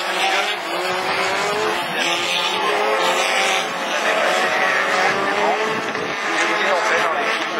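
A Renault Twingo rallycross car spins out at Lessay in Normandy, its engine revving hard with squealing, skidding tyres, heard from a distance under continuous excited commentary.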